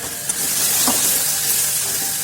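Shankar fish frying in oil with ginger garlic paste as it is stirred in the pan, a constant bright sizzle and hiss with one faint scrape of the spoon partway through.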